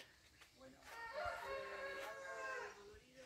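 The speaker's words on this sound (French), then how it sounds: "Et le coq pour nous accueillir." A rooster crows at a rural guesthouse with a garden along the Camino Primitivo, a drawn-out harmonic call rising over a quiet outdoor background at moderate distance.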